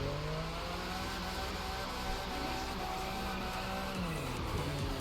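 A car drifting in The Crew 2 keeps up a steady engine whine and a continuous tire hiss for the whole stretch, with the pitch sliding as it revs, at a moderate, even level and with no talk over it.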